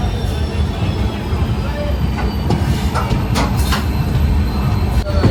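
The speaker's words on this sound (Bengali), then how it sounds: "একটা ICF কোচের ট্রেন।" An ICF-coach passenger train rolls between New Jalpaiguri and New Mal Junction with a loud, steady rumble from close by, a faint rhythmic clatter of wheels and brief high squeals.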